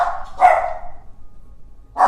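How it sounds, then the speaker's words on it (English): Dogs bark sharply a couple of times at a doorbell, with a short pause between bursts, fairly close and loud. "My dogs, the doorbell rang, so of course they have to tell the whole neighborhood"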